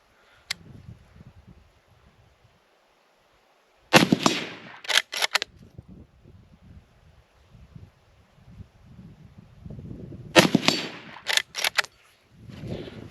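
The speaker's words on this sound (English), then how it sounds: "The next couple shots I'm going to take sitting, using my pack, bracing off of that." Two sharp rifle shots, fired from a sitting position braced on a pack with iron sights at a target about 115 yards away. Each report cracks loudly and echoes outdoors, and the shots are several seconds apart, with quiet rustling around them.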